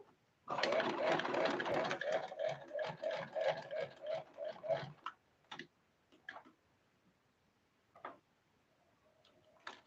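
A sewing machine stitches Ankara fabric for a head dress in a fast, even run of mechanical ticks for about four seconds, followed by a few scattered clicks and handling sounds.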